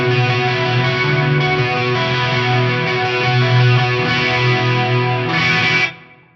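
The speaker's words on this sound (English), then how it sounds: "One is using the dual chromatic for like an H3000 style detune." Electric guitar run through a Fractal FM3 pitch block set to dual chromatic H3000-style detune, with gain and a wide chorus-like shimmer, sustaining loudly and steadily for about six seconds before cutting off.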